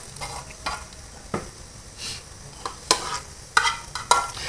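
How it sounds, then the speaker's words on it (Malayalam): Hot tempering poured into lentil curry, with sharp sizzling bursts and crackles coming in irregular pulses, close and fairly loud, amid stirring noises and no talk. "പരിപ്പ് കറി റെഡിയായിരിക്കുകയാണ് അതിലേക്ക് നമ്മൾ വറവിടുകയാണ്"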